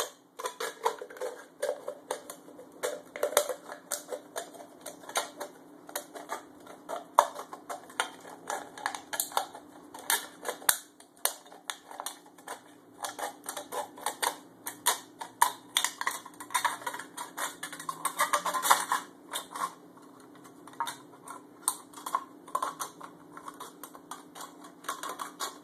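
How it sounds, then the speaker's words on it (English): Scissors snipping through the thin aluminum bottom of a pop can, heard as a dense run of close, crisp clicks and crinkles that goes on steadily throughout with no talking. "you'll just cut the bottom off right on your line."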